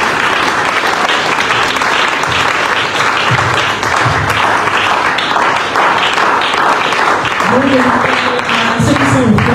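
Church congregation applauding loudly and steadily throughout, a dense wash of clapping with crowd voices and some singing or shouting rising under it near the end.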